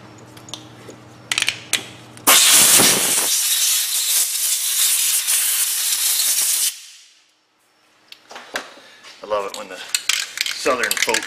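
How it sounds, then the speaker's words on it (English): A compressed-air blower blasts out the front wheel bearing area of a Dodge Avenger: a loud, close, sustained rushing hiss lasting about four seconds, framed by metallic clinks and tool handling before and after. "Oh, blowing out. There she is. My little blower."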